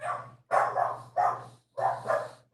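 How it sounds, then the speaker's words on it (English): Dogs bark close by in a rhythmic series of four or five sharp, loud barks separated by brief silences, over a faint low hum. "What kind of dog is that?"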